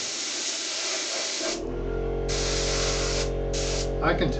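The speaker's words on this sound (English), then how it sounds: "by the way this is spraying that I've got a restriction in there somewhere. It's not feeding as much material through the gun as it should be." A spray gun spraying composite material in a production shop, its feed partly restricted, gives a steady hiss that cuts out and restarts in short bursts over a low mains hum, with a clatter at the end.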